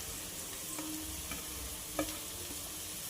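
Carrots, beans and green chillies are stir-fried in a pan for prawn fried rice, with a steady low sizzle and light scraping clicks as the spatula moves, and no voices.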